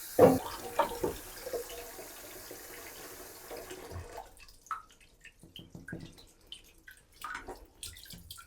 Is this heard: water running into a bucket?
yes